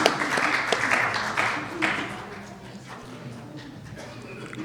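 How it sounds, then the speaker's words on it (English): Applause from a convention audience at a First Nations voter event at the RBC Convention Centre. The clapping is loudest at the start and thins over several seconds into scattered claps and room murmur. "Let's have a round of applause for Perry."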